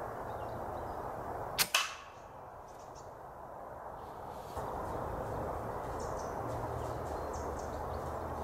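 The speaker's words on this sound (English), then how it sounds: "there's no reason why you can't just sit a few yards away and make accurate shots like this." Air Arms air rifle fired at a squirrel outdoors, a single sharp crack followed by a brief thud, set against steady outdoor ambience with faint birdsong.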